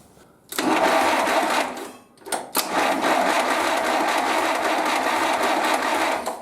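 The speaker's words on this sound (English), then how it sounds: "The fuel pump is filling up" The electric fuel pump on a 1931 British Dodge runs with a fast, even mechanical buzz and ticking, starting abruptly, briefly cutting out around two seconds, then resuming steadily, with no talk over it.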